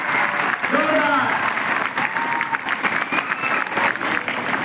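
Students at Adarsh Vidyalaya in Dariyapur, Amravati district, applaud loudly in a classroom, a dense, sustained clapping that fills the room with bits of voice and cheering mixed in.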